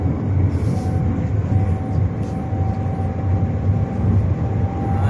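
Maglev train running at high speed, a steady loud roaring rush with a thin high whine running through it, heard continuously without talk.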